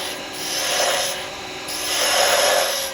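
A 3/8 spindle gouge cutting a wooden Christmas bauble on a lathe, a steady broadband rasping hiss that swells and eases in two long passes as the tool works round the spinning wood, close and alone.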